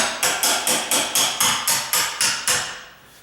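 A door hinge pin tapped out with a hammer: about ten evenly spaced, sharp metallic taps in a quick steady rhythm, close and loud, fading off after the last strike with no talking.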